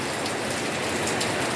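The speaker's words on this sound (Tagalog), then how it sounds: "Buti na lang ulan, walang hangin." Heavy typhoon rain pouring steadily onto surfaces, a dense, even hiss without wind, close and continuous throughout.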